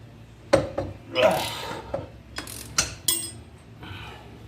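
Sharp metallic clicks and clanks from a ratchet and tools working a tight castle nut on the front axle of a 2019 Can-Am Outlander, several separate bursts of effort, close by, with brief speech between them.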